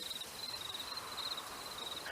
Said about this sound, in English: You hear all manner of forest animals at night, nocturnal owls and birds and insects that flit in and out of your realm of perception.